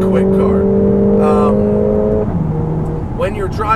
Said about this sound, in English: This is a really quick car.